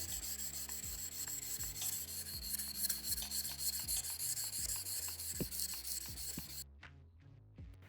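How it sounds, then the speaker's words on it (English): A copper-clad Damascus (Cu-Mai) nakiri knife blade is hand-sanded with 400 grit sandpaper in quick, rhythmic, close rasping strokes that stop abruptly near the end. "Starting at 400 grit, I'll bring the surface finish up to 400, and then step it up to 800 to try and shine up that copper a little."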